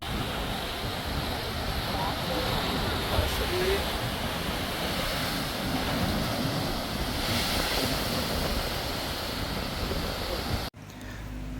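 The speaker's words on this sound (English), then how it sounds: "Now here comes the big wave. Here come the waves now." Big ocean waves surge and crash against the rocky cliffs at Devil's Tears in Bali, a steady loud roar of surf with wind buffeting the microphone, ending in an abrupt cut to quieter sound near the end.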